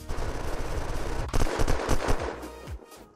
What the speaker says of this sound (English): Shoot the bottom one.